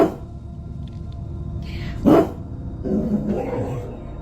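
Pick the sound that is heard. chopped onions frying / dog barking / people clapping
dog barking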